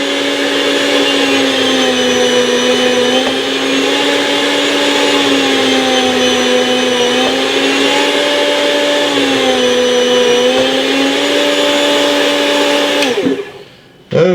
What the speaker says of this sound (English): I'm going to cut a couple of slices here.